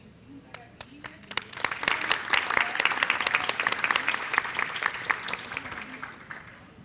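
Warm audience applause for a panelist at an HR conference in Rio, building from a few scattered claps into steady clapping across the room, then slowly thinning out.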